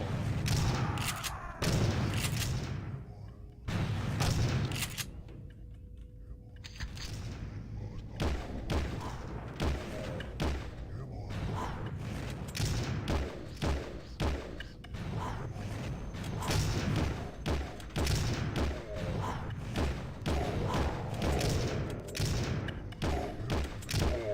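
Weapon fire in the video game Destiny, irregular sharp shots and thuds with mechanical clanks, broken by short quiet gaps and mixed with a voice talking over the action.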